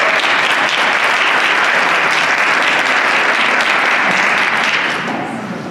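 An audience at an annual business meeting applauds award recipients, a loud, dense, sustained burst of clapping that holds steady and fades slightly at the close.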